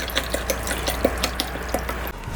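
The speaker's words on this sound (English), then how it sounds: "Pour the cranberry juice in the glass." Cranberry juice poured into a glass, a close liquid trickle with small clinks and knocks running through the pour before it stops abruptly near the end.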